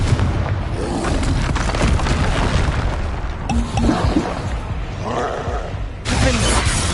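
Confringo fire spell explosions going off in the video game Hogwarts Legacy, a loud continuous barrage of booming blasts and shattering crackles with abrupt cuts and fresh bursts, alongside other game sounds.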